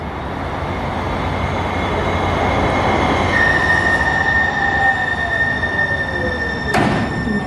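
A Seattle light rail train runs past with a loud rumble of wheels on track, a long high-pitched wheel squeal, and a sharp metallic clank near the end.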